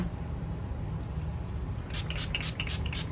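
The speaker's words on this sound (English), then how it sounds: "And then a little bit more setting spray." A few short spritzes from a makeup setting spray bottle hiss near the end, layered over a constant low background hum.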